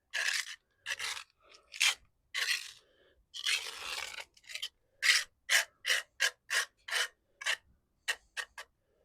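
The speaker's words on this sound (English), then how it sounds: "You scrape it into the joint. I like to use the edge of the trowel." A trowel edge scrapes mortar into the joints of a natural stone patio in a series of short, gritty strokes. The first strokes are slower and more spaced, and the later ones come in quick regular succession, close and alone.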